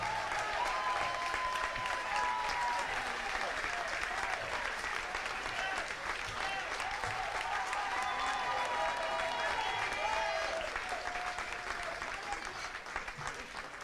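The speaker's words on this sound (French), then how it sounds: "Je remercie de l'applaudir très fort." Sustained applause from a crowd at a Basse-Terre municipal council investiture ceremony, honoring the campaign director, dense and steady clapping for about fourteen seconds, tapering slightly at the end.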